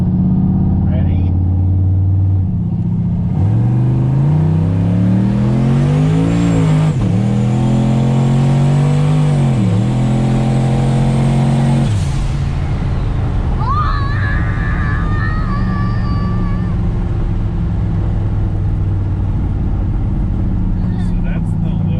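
A 1988 Chevrolet C1500 truck with a turbocharged LS engine swap revs loudly and close, climbing and falling in pitch through several pulls before settling into a rough idle with turbo whistle and flutter.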